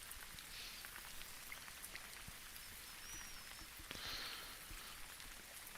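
Rain falls over a lake in the virtual-reality fishing game Real VR Fishing on Meta Quest 2, a steady, faint, soft patter with no voices.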